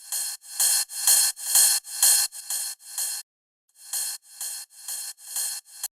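Ride cymbal pushed through heavy overdrive saturation in an EDM mixing session, played as a steady run of bright, gritty hits that pause briefly partway through and then resume, loud and alone.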